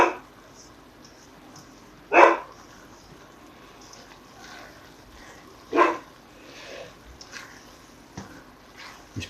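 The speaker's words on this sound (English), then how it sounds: "Sorry if you can hear the dog." Inside a home kitchen, a dog gives two sharp barks several seconds apart, followed by fainter yips and small noises over a quiet background, with no speech.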